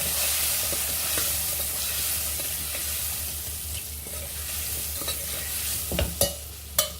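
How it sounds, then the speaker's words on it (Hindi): Salt, red chilli, turmeric and coriander powders fry and are stirred in a pan, a loud continuous sizzle with scraping strokes and a few sharp utensil knocks near the end. "कुछ सेकंड तक इसे भून लेते हैं"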